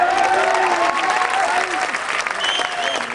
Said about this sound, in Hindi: एक बार तालियां बजाइए